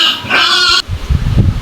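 Squealing cries from a pig in labour on a farm, a loud harmonic squeal for most of a second, then grunting, snuffling sounds close by.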